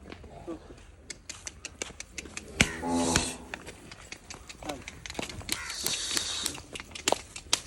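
Buffaloes at a livestock market in Sialkot: hooves shuffle and thud, there are scattered clicks and knocks, and a brief low animal call rises in the middle, all under steady nearby voices of traders.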